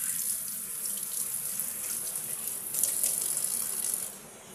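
Tap water runs steadily into a sink basin where tangra fish wait to be washed, a loud close gush that swells briefly before easing off near the end.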